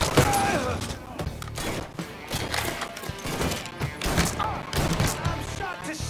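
Gunfire in the Mafia III video game crackles in dense, repeated bursts over about six seconds, loud and close, with thuds mixed in and game dialogue and music beneath.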